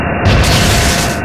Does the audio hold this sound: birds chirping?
no